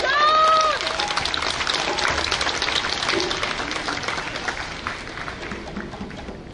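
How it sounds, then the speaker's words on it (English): Audience applause at a festival's inaugural event in Ann Arbor, a dense burst of clapping that starts loud and gradually tapers off, with a brief voice at the very start. "Let's give her another round of applause"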